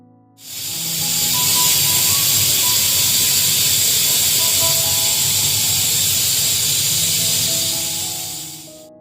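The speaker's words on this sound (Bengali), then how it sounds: "এই যে দেখো আমার প্রেসার কুকারের সিটি পড়ে গেছে" A pressure cooker of khichuri lets out its whistle, a loud sustained hiss of escaping steam with a faint tonal whine, starting abruptly and holding steady for several seconds before easing off.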